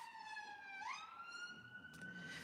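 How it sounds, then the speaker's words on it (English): A rising and falling emergency siren wails outdoors, a clear harmonic tone sweeping steadily upward through the stretch and carrying on continuously at moderate loudness with no talk over it. "There's a siren going on,"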